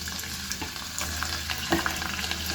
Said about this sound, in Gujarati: તો આપણે વઘાર સરસ મજાનો કરી દીધો છે